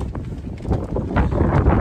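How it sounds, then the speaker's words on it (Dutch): Strong wind buffets the microphone in a steady low roar, swelling slightly louder toward the end, with no voices. "het waait ook echt nog eens heel erg hard"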